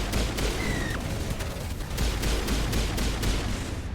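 Rapid gunfire in a Mass Effect firefight, with sharp repeated shots cracking at irregular intervals over a constant roar of combat noise, loud and dense across the whole stretch.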